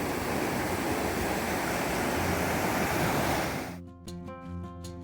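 Sea waves wash onto Agonda beach in South Goa, a broad, loud surf roar with wind that swells and then fades sharply, giving way to quieter tonal sounds in the last second.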